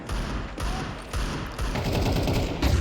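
Rapid pistol gunfire from a Counter-Strike match in the IEM Dallas 2025 quarterfinal between Falcons and GamerLegion, a dense burst of loud cracking shots with thuds that keeps building toward the end, with no voices over it.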